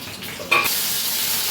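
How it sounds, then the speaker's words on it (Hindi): A sudden loud sizzle as cumin seeds hit hot oil for tempering, with ginger and green chili, then a steady hissing fry continuing without talk. "और थोड़ा सा जीरे का तड़का लगाएंगे, थोड़ा सा अदरक और थोड़ी सी हरी मिर्च"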